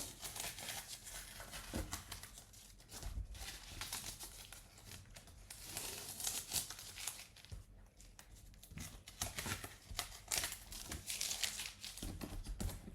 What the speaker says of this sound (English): Now I'm just going to take off the tape.